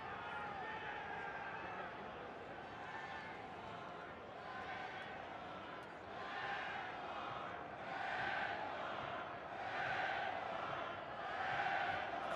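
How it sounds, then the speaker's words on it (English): Soccer stadium crowd at a FC Cincinnati vs O&M FC Concacaf Champions Cup match, a broad murmur swelling into a rhythmic chant for a red card, pulsing louder toward the end. "Crowd breaks out in a red card chant."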